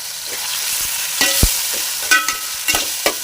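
Green chillies and ground garlic paste sizzling in hot oil while being stirred, with a steady frying hiss broken by several sharp spatula knocks against the pan, close and alone without speech.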